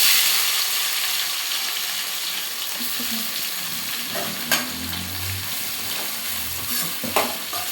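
Onions sauté in a hot pan with a steady, close sizzle and crackle, punctuated by a few sharp stirring clicks and scrapes, with no talking.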